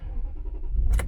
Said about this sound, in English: Fire up real quick. Goes right to a perfect idle with no check engine lights, no problems to report.